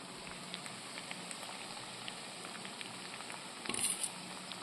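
Grated coconut goes into a hot pan of potato stir-fry with a quiet, steady sizzle, then a brief louder burst of sizzling and scraping near the end; no talking.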